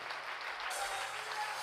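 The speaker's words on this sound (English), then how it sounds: "Would you clap your hands?" Church convention congregation clapping hands in praise, a brief continuous patter of many hands at moderate distance.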